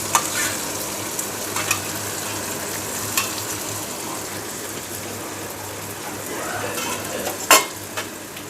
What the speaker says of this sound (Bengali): এখন ভেজে রাখা তরমুজগুলো দিয়ে দিচ্ছি।